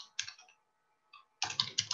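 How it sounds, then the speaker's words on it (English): Computer keyboard typing in bursts of quick, light key clicks, a short flurry at the start, a brief pause with a lone click, then a denser run of keystrokes to the end. "I'm typing it in."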